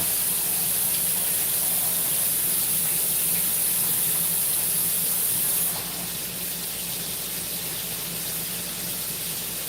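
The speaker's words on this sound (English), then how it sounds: "I'm gonna go wash my hands," A kitchen tap runs steadily as hands are washed beneath it, a constant close hiss of water that eases slightly partway through, with no voices.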